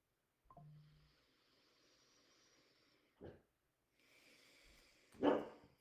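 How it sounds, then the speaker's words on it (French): A small dog barks faintly in the distance: three short, separate yips spaced a few seconds apart over a quiet background hush. "On a un petit chien qui jappe."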